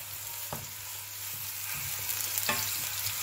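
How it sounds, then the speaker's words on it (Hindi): Onion with a spoonful of ginger-garlic paste fries in a hot pan, giving a constant, even sizzle with a few soft stirring knocks; no voice over it. "अब इसके अंदर शामिल करेंगे अदरक और लहसुन की पेस्ट 1 चम्मच।"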